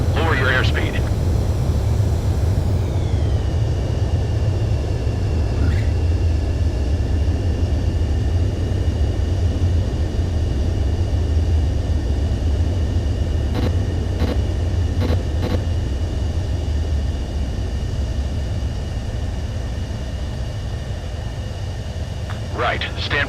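An Ace Combat 7 fighter jet sets down on the runway with a steady, loud engine roar and low rumble that hold throughout, a whine sliding downward early on, while a radio voice speaks over it.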